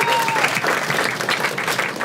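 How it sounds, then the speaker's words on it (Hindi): An audience claps in sustained, dense applause, loud and close, filling the whole moment. "एक बात ताली बजाओ इसके लिए सभी।"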